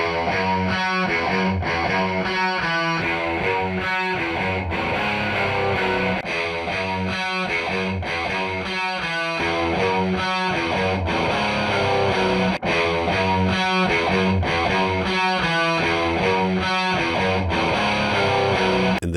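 Heavily distorted electric guitar playing a chugging, rhythmic riff, compressed and steady at full level throughout without voices.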